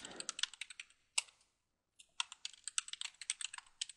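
A username is typed on a computer keyboard in quick, close, crisp clicks, with a short burst, a single tap, a pause, then a longer run of keystrokes, no voices.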